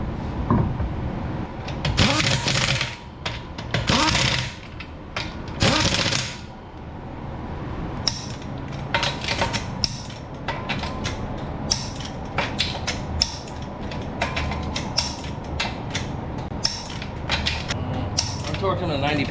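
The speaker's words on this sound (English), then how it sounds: "I'm torquing to 90 pounds." Torque wrench clicking and ratcheting while tightening a wheel on a 2014 Honda Accord, many short sharp mechanical clicks in quick bursts, close and fairly loud, with a few quiet stretches between.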